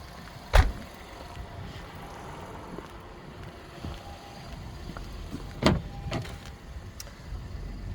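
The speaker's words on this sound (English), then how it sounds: "Of course, power windows" Power windows in a 2019 Honda Odyssey EX-L minivan, heard from inside the cabin as a couple of short, close motor-and-thump bursts separated by a steady low interior hum.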